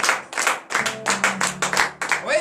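Bursts of hand clapping rise and fall in short waves during a morning prayer gathering in Benin, with a sustained hum and occasional voices underneath.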